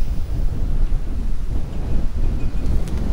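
Wind buffets the microphone in a steady low rumble on a beach in Santa Ponsa, Mallorca, gusting unevenly with no voices.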